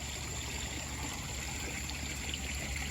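Steady water streaming and pouring into a koi pond being extended, a continuous rushing flow that holds level and fairly close throughout with no voices.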